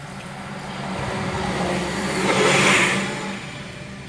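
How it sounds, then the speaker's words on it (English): An articulated bendy bus pulls along 5th Avenue in McKeesport, Pennsylvania. Its engine hum and tyre roar build to a loud close pass with a brief whine, then fade, and no voices are heard. "A bendable bus out on 5th Avenue."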